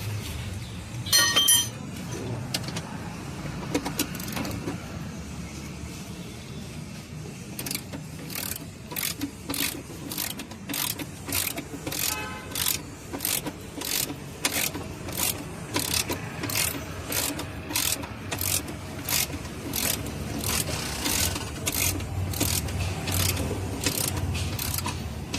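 A ratchet wrench clicks rapidly as Wagon R engine mounting bolts are tightened, starting with scattered metallic handling and then settling into long, regular bursts of ratcheting strokes, close and crisp, with no talk.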